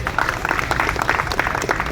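An audience at a memorial day gathering gives a short round of applause, a dense, steady patter of many hands clapping at moderate distance, continuous for about two seconds.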